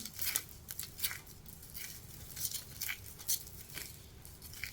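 Dry, crackly crunching in short irregular bursts, close and fairly quiet, as sun-dried bread is crushed between fingers into crumbs.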